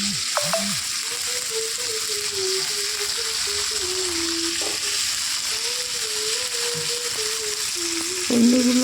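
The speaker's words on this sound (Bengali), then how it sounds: "এখন দিয়ে দেবো ভেন্ডিগুলো ভাজা করবো" Okra (bhindi) frying in a pan, a continuous close sizzle with occasional stirring clatter, steady throughout with no voices.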